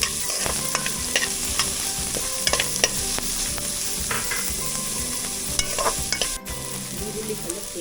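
Onions frying after garlic in a pot for home-cooked kichdi, steady sizzling under repeated scraping and stirring strokes of a spoon against the pan, close and continuous.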